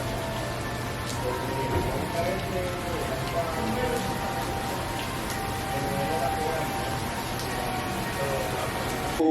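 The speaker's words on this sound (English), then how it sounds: "We got caught in the rain" Steady rain falls and patters on surfaces outdoors in Puerto Rico, a constant dense hiss with scattered drips, heard alone at even volume throughout.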